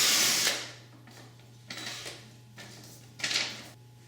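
A 6mm drill bit boring through a window template for tilt-and-turn window gearing, heard as three separate short bursts of whirring, each lasting about half a second, with a steady low hum underneath.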